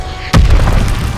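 A single heavy, close rocket explosion in the World War II shooter Call of Duty: Vanguard, a sudden deep boom after a brief quiet lead-in, rumbling on with a thick low-end tail.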